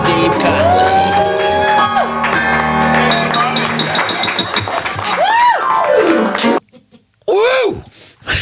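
Crowd screaming, whooping and cheering at the start of a show, with loud, sustained shouts and held yells that cut off abruptly, followed by a couple of brief sharp whoops.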